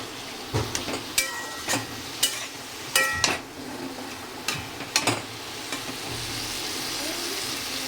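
Potatoes cooking for a mulor chhechki, a radish dish, sizzle and get stirred in a pot. Sharp metallic clanks and knocks recur in irregular bursts, which fits a lid being handled over the steady soft frying hiss.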